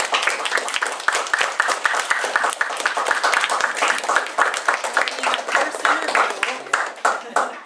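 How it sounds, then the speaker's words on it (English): A school class claps together in a warm round of applause, many hands beating in dense, lively bursts that stay loud and close before tapering off at the end. "a nice round of applause"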